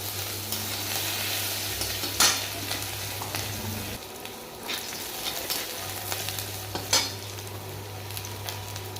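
Whole garam masala tempering in hot oil with chopped ginger and chilli for a paneer curry, giving a steady close sizzle with a few sharp crackles and clinks over a constant low hum. No one speaks.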